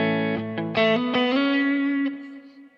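Electric guitar played through an HX Stomp with no drive, a clean sustained chord and a few plucked notes washed in light reverb and delay, ringing out and fading alone.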